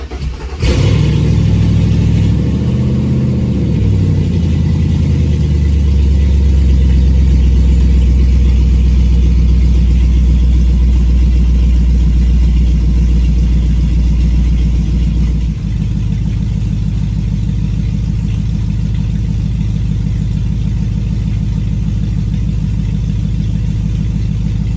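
Pontiac Firebird with a swapped 5.3 LS V8 fires up and settles into a loud, steady, deep rumbling idle running rich, with small revs early on and a continuous close engine drone throughout.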